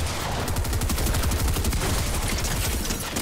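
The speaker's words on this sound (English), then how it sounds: "Oh, it's a primal shotgun." Rapid gunfire from a primal shotgun in Fortnite, heard as a dense, loud, continuous volley of overlapping shots with no pauses.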